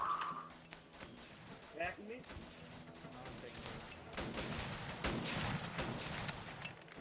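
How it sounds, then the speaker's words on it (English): Gunfire in an Arma 3 Indochina operation, a sparse exchange of bolt-action rifle shots and bursts heard at a distance, popping irregularly beneath a voice. "these guys are returning fire with bolt action"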